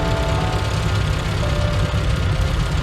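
Classic Mini Cooper S engine idling steadily on the workshop bench while its carburetors are balanced, a close, continuous low rumble with a faint whine riding above it and no talk.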